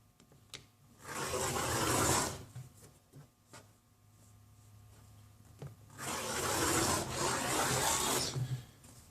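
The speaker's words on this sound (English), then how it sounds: "Now just go ahead and rotate the board, and now you're going to cut the other direction." A board being cut across in quarter-inch increments, heard as two rasping, rubbing bursts of about a second each, separated by quieter handling sounds and light knocks.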